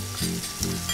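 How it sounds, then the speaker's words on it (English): Tomatoes sizzle steadily in hot olive oil, a close, soft frying hiss with a couple of light stirring scrapes. "the idea of frying the tomatoes in olive oil."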